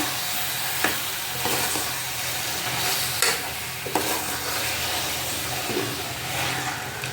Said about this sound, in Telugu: ½ కేజీ చికెన్ వేస్తుండే దీంట్లో. బాగా కలుపుకొని